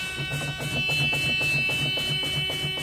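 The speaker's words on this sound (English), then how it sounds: "My low air warning light and or buzzer has come on." A steady, high electronic buzzer drones without pause from a truck's low air pressure warning during an in-cab brake test, with a rapid rhythmic thumping pulsing underneath.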